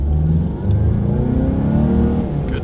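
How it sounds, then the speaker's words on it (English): A 2020 Mazda CX-9 with a turbocharged four-cylinder pulls hard under acceleration, its engine note loud, close and steady throughout, with no talking. "Let's do a quick little acceleration test here, and let's see how quickly we can get the new 2020 Mazda CX-9 here up to speed"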